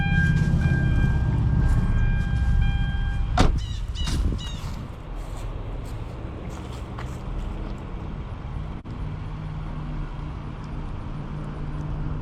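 A 2008 Hyundai Sonata GLS with a 3.3-liter V6 cranks with a short whir after steady chimes, then fires and settles into a continuous idle hum inside the car.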